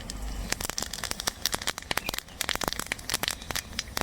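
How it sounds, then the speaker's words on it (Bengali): Bay leaf, dried chilli and fennel seeds tempering in hot mustard oil and ghee in a kadai, giving a dense, close, continuous crackle of sharp popping sizzles with no talk. "কড়াই দিয়েছি সর্ষের তেল একটু ঘি ঘি ফোড়নে দেবো তেজপাতা শুকনো লঙ্কা মৌরি"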